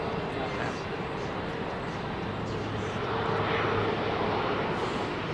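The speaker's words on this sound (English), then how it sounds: "Boeing 777 long range, the LR, on approach to Heathrow" A Boeing 777 long-range airliner approaches London Heathrow, a moderate, steady engine roar with a rumbling low end that swells slightly toward the end.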